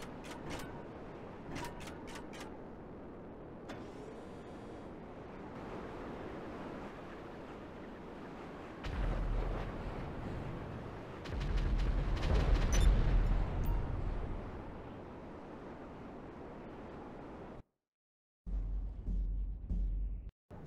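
A Starling bomb dropped in GTA Online detonates in a loud, broad, rumbling blast that swells near the middle and dies off before a short pause, all over a steady rushing background with no talk.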